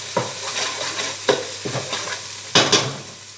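A spoon stirs potato biryani masala frying in a pan, giving several uneven scraping strokes over a constant close sizzle, with no talking.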